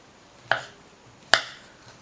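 Two sharp knife chops hit a cutting board close up as sausages are cut, spaced almost a second apart, each a crisp tap with a short ring.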